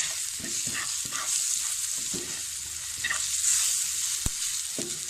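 Potato Manchurian mixture seasoned with chicken powder, salt and red chilli is stirred in a pan: a steady sizzle runs under irregular scraping strokes from a spoon, with one sharp knock near the end and no talk.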